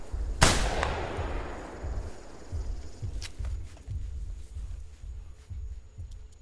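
One sharp, loud rifle shot in the hunting video game theHunter: Primal cracks and rolls off in a long echo. Soft, rhythmic thumps like footsteps or running continue under it afterward.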